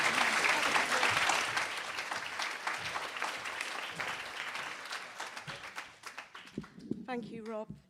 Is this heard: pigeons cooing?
no